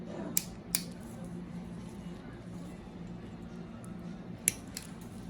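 Nail clippers cut a thick fungal toenail, giving a few sharp, close snips, two early and one or two near the end, over quiet room background.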